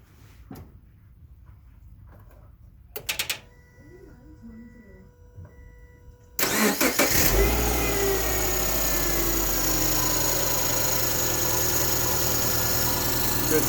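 A Subaru Forester with an EJ25 engine, just fitted with a new AC compressor clutch, cranks and fires in a garage, then settles into a loud steady idle after some quieter clicks and clatter.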